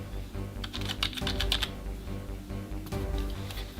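Keys on a Corsair K55 RGB keyboard clack in a steady run of close, fairly loud strokes, with a burst of quicker taps midway and another flurry near the end, no voices.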